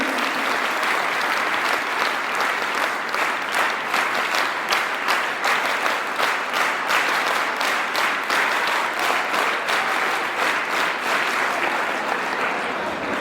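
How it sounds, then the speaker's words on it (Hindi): At the closing of a five-day aerobics workshop, a large crowd claps steadily, a dense sustained wash of applause throughout. "एक बार दोबारा उनके लिए जोर से तालियां"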